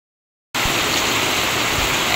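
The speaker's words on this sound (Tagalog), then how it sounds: "Ayan po, lalo po nalakas po yung ulan." Heavy rain pours down outside a house, starting abruptly after a moment of silence and then holding as a dense, steady hiss with a few low thumps.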